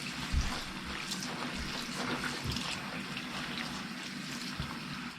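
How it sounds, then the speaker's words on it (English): Rain jacket being pushed under water in a basin for washing with Nikwax TX Direct: soft sloshing and trickling with a few low, muffled thumps as the fabric is submerged, quiet and close. "So I'm going to submerge this in the water."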